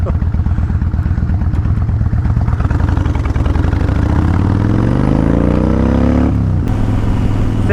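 A motorcycle rides at night with a loud, steady engine drone close up, its pitch climbing through a rev and dropping near the end, with wind noise throughout.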